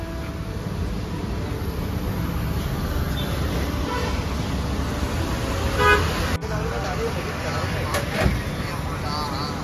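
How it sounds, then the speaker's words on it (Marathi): A tempo truck arriving on a road, its horn tooting over engine and traffic rumble, with people talking nearby. "टेम्पो आलेला आहे."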